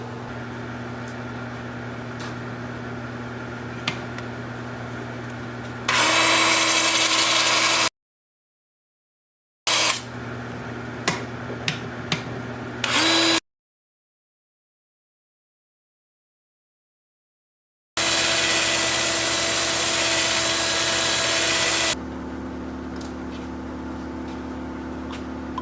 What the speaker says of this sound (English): I think it's ready for sanding. And I'll I'll sand it and finish the outside